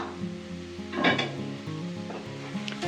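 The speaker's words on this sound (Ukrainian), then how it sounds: "А цибуля моя горить" Onion sizzling and frying in a pan, a steady crackling hiss with a few scraping stirs and a light clink of utensils near the middle, close and moderately loud with no talking.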